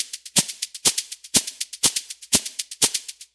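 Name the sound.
shaker loop sample played in Ableton Live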